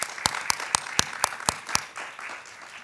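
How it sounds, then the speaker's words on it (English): Conference audience at a refugee and im/migrant youth event claps for the organizers: a short burst of distinct, evenly spaced claps, loud and close, that thins into scattered fainter clapping within about two seconds. "So if everyone give a round of applause."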